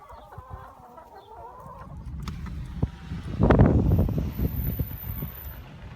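Hens clucking and murmuring nearby, with busy low rustling and shuffling throughout; the clucks grow louder and denser toward the end.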